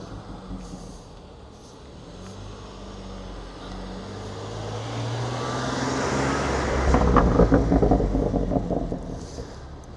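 An orange BMW M2 Competition at a Cars & Coffee meet gives a low, rumbling exhaust burble that builds as it draws closer, loudest near the end, over steady outdoor traffic hum.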